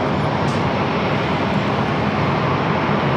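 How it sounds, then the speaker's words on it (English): A Southwest Boeing 737-700 airliner at San Diego airport, a steady broadband jet engine roar that holds constant and loud throughout, with no voices. "Southwest flight heading to San Jose, 737-700"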